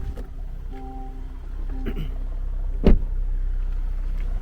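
A Land Rover in low gear eases onto a steep 13-degree ramp, its low steady engine rumble joined by a short whirring tone and a sharp thump or clunk near the end.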